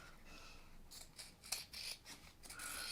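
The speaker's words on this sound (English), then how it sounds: "I'm just going to take this and cut right up the center of these with a bigger scissor" A large pair of scissors snips up the center of a piece of paper in a few quick, quiet cuts, close by and alone.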